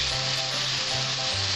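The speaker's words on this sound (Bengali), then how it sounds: "মাছগুলো আমি লাল লাল করে ভেজে নেব।" Prawns fry in hot oil with a loud, dense, continuous sizzle close up, alongside a low pulsing hum from the stove, and no voices.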